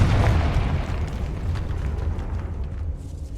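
A Confringo spell detonates in Hogwarts Legacy, a heavy booming blast up close that rolls on with a rumbling, crackling decay.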